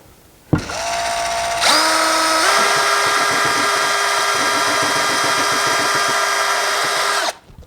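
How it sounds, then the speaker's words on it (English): Power drill boring a hole for a range hood bracket under a kitchen cabinet: a brief start, then a steady whining drive that rises in pitch and runs loud and close for about six seconds before cutting off. "so let's drill the hole now"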